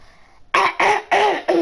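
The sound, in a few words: cough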